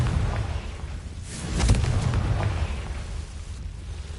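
A Confringo blasting curse detonating in a Harry Potter video game, a broad rumbling explosion that swells to a peak mid-clip and decays into a lingering low roar, with no voices.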